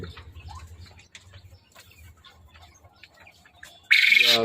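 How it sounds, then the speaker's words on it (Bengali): Quail in a newly built farm shed: a quiet low hum gives way to a sudden loud burst of squawking and wing flutter near the end. "44টা কোয়েল পাখি উঠাইছি।"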